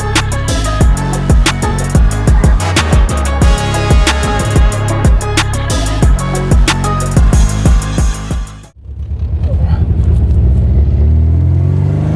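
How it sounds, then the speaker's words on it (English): A loud, throaty 1978 MGB GT engine revs hard through repeated gear pulls on a test drive, then drops to a rough, lumpy idle near the end; the car runs very smoky. "you can hear this car is pretty loud and very smoky"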